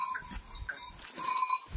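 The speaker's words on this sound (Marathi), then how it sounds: "शेळ्या एक नंबर मोठ्या मापाच्या आहे" Large Kathiawadi goats bleat at a livestock sale, a few short nasal calls close by amid general farmyard noise.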